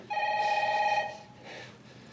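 A telephone rings indoors with one long electronic ring and then a softer, shorter second ring. It is heard alone with no voices.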